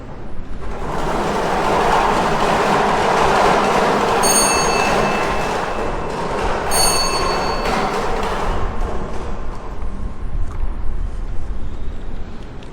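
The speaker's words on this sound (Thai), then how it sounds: "ต่อไปพนักงานออกเลขรางวัลจะได้ทำการหมุนอุปกรณ์เลขเสียงประจำหลักเป็นครั้งที่1" A Lao Development lottery drawing device spins during a televised number draw, giving a loud, steady whirring rattle with a couple of brief metallic ringing accents partway through and no voices.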